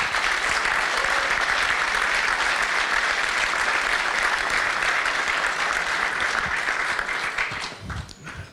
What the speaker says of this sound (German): verdient einen Applaus.